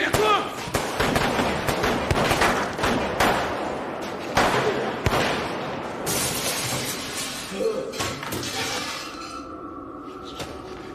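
Rapid gunfire and shattering glass ring out in an action film shootout, a dense, loud barrage of sharp cracks and crashing debris that thins toward the end.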